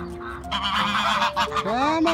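Several geese honk loudly and close by in quick overlapping calls, with a person's voice mixed in among them.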